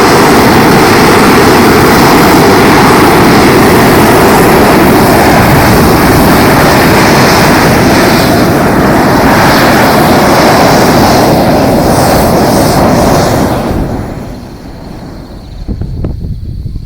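A gas flame weeder burner turned up roars with a loud, dense, continuous rushing of flame that dominates the whole stretch, then eases down to a quieter hiss near the end.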